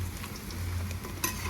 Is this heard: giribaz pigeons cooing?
no